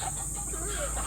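A young stag rooster for sale clucks softly in short low calls close to the listener, over a steady background hum, with no voices in the brief moment.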